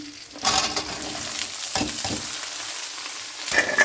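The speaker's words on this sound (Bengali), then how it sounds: "আজকে আমি রান্না করছি যে ফুলকপি, সিম, আলু দিয়ে মাছ দিয়ে এই যে মশলাটা কষিয়ে নিলাম" Spice paste frying in a pan for a fish curry with cauliflower, flat beans and potato, a steady close sizzle with a few stirring scrapes and bursts of spattering.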